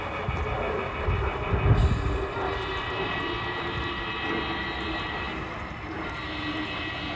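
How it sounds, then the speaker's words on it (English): A jet airplane passing high overhead near Lexington, a broad continuous engine roar that swells briefly then holds steady, heard alone without talk. "Jet going over."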